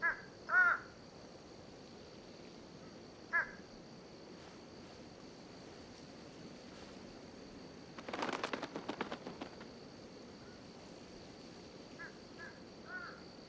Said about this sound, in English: These fish crows, feeding on fruit in southern Florida